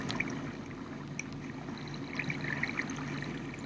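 Water pouring and trickling in the Minecraft video game, a steady low-level flow with faint splashy detail running through the whole stretch, alone with no talk.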